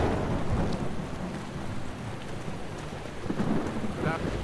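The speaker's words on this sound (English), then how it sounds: "I know it's raining" Steady heavy rain with low rolling thunder from a Skyrim mod, a dense and continuous roar that stays loud the whole time and swells slightly toward the end, with no talk over it.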